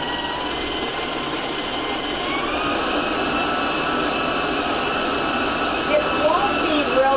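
An electric mixer beats ginger muffin batter at a raised speed, giving a continuous, loud, even motor whir that holds steady throughout, with a faint voice beneath it.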